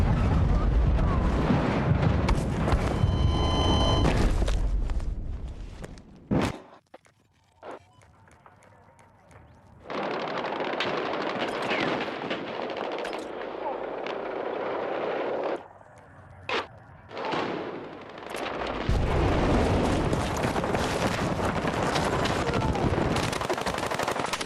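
Grenade explosions and gunfire blast loudly in a PUBG match, dense roaring bursts broken by quieter gaps and sharp single bangs; the heavy booms sit up close and dominate.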